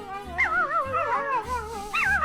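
A dog whimpers and howls in wavering, quavering high cries, several rising and falling whines in close succession with low background noise beneath.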